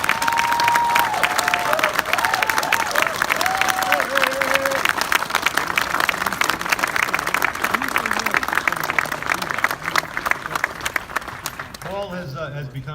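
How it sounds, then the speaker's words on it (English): A crowd honouring Paul's retirement from the Troy department breaks into loud, sustained applause with scattered cheers and voices mixed in. It runs for about twelve seconds before tapering off, with talking heard as it dies away. "Please join me in a round of applause to recognize Paul for his impressive career of dedication and service to the people of Troy and our department."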